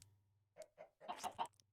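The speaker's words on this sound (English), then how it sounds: "We're going to get some chickens." Chickens in the video game Minecraft cluck in a short, quiet run of four or five soft clucks over a low steady hum, with no talking.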